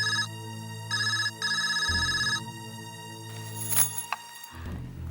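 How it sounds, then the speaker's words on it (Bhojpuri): An incoming call rings on a household telephone in bursts of electronic ringtone, then a clatter and shuffling as the phone is picked up, fairly quiet overall. "फोन आ गई। जा देखा केकर फोन है।"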